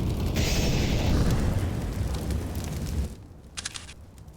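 Grenade blasts during a professional Counter-Strike match on Dust2 at IEM Cologne 2021: a loud, sustained rumbling roar of explosions that cuts off sharply into quieter game ambience with a few faint clicks.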